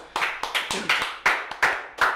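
A few people clap hands in short, uneven bursts, each loud and close, with small gaps between them in a lively podcast setting.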